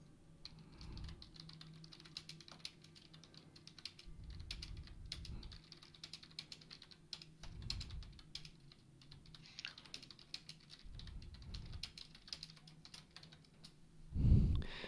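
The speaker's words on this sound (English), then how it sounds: "Typing notes to Pi on the technical side of stuff" Notes being typed on a computer keyboard: quiet, irregular bursts of clicky keystrokes, close up, with a low hum underneath and a louder thump near the end.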